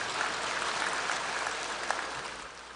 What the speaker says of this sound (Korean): 한 박수 한번 쳐주십시오